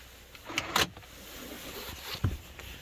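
A car locked with its remote: a couple of close mechanical clicks and thunks from the door locks, then a lower clunk a moment later, against quiet background.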